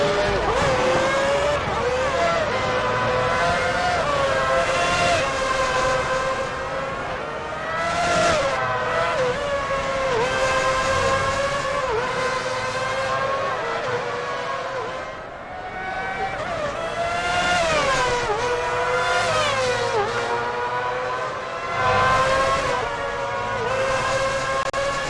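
Formula 1 race cars lapping Hockenheim in F1 2006, with a loud, continuous high-pitched engine whine that rises and falls through gear changes and passes for the full stretch, alongside occasional tire noise.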